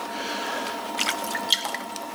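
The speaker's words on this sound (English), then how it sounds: "Add a bit of water." Water poured or dripped onto spinning clay on a pottery wheel during close-up throwing, a few soft wet drips and splashes over a steady low wheel hum.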